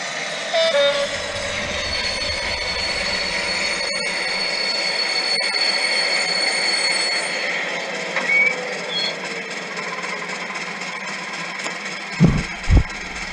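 An OO gauge model Class 56 locomotive in Colas Rail livery runs along a large loft layout, giving a steady close rumble and rail hum throughout, with a couple of sharp clicks near the end.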